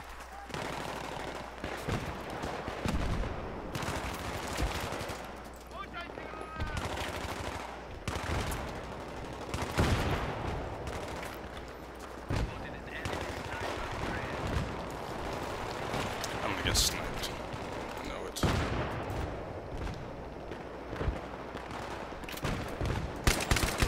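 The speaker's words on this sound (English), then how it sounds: "Hey, use the machine gun." Battlefield 3 team deathmatch on Damavand Peak, with dense machine gun bursts and scattered gunshots rattling almost continuously over about 24 seconds amid busy game noise, and player voices talking over the shooting.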